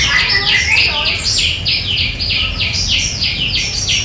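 Many small birds chirp and tweet in quick repeated bursts, fairly close and steady throughout, over a low background rumble at a workplace where onions are processed.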